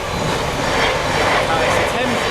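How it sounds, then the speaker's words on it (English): A train rumbles past at a level crossing, a broad loud roar that swells and holds through the moment, heard from close by at the roadside. "Here comes the train."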